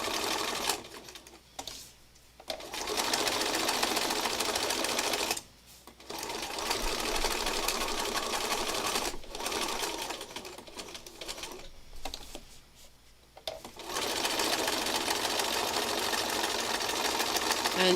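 A sewing machine stitches down the sides of fabric scraps, running in loud, steady whirring runs broken by several brief stops, close and alone with no talk.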